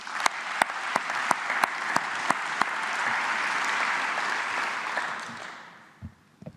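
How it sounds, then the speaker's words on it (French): An audience applauds at a corporate event, with a few sharp individual claps first, then dense sustained clapping from a crowd that fades out over several seconds, leaving a couple of faint bumps at the end. "Je pense qu'on peut les applaudir."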